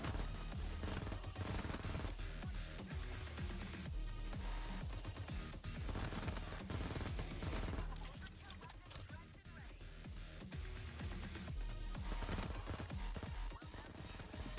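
Rapid SMG gunfire from the Payday 3 video game, running in dense, continuous bursts that stay loud and close throughout, layered with busy game effects and no pauses.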